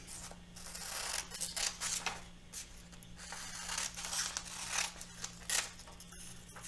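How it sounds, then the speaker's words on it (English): Scissors snip through stiff paper cards in a run of short, crisp cuts with small rustles and pauses between them, close by. "So getting your scissors and just cutting them"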